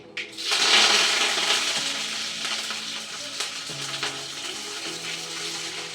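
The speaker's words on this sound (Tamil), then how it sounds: "நல்லா கடுகு பொரிய விட்டு போடுங்க நம்ம இந்த பட்டையும் கொஞ்சம் இந்த கல்பாசியும் போட்டுக்கலாம் போட்டோன்னே கருவேப்பிலை போட்டுடலாம்" Mustard seeds, cinnamon, stone flower and curry leaves hit hot oil in a clay pot with a sudden loud burst of sizzling and crackling, then settle into steady frying under a faint background hum.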